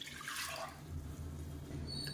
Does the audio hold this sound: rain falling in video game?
no